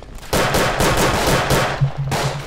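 Rapid bursts of gunfire in the WW1 trench warfare video game Verdun, loud and close, with several clustered volleys of repeated shots and brief pauses between them.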